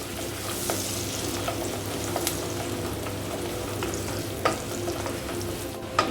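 Half a cup of long-sliced garlic and four green chillies sauté in a pan for beef pickle, making a constant close sizzle with bursts of stirring and light scraping throughout.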